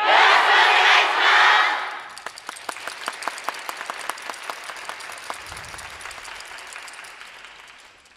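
A crowd cheers at a student yosakoi dance team's performance, then the audience settles into steady rhythmic clapping along to the dance, dozens of even claps that slowly fade.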